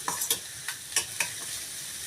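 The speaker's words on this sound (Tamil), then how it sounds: "தேங்காவை சேர்த்துட்டு கலந்து விட்டுக்கோங்க." A spatula stirs grated coconut into a cluster bean stir-fry in a pan, making a quick series of five or six scraping strokes over a soft, steady sizzle, close and clear with no voices.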